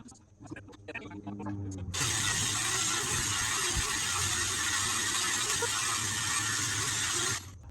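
A cast iron skillet's rusty inside surface is power-sanded with 60-grit abrasive, a loud, steady harsh grinding that starts abruptly after a moment of quieter noise and runs on continuously before cutting off.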